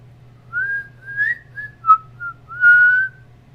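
A person whistles a short run of clear, bright notes: several brief tones, one quick chirp and a longer held note at the end, close and loud over a low steady hum.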